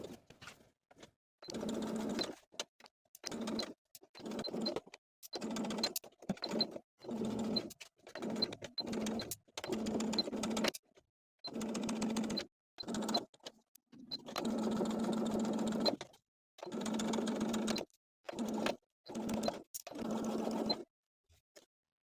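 A sewing machine edge-stitches along the folded edges of a summer blouse in repeated bursts of fast, close mechanical whirring, each run lasting a second or so and separated by short pauses.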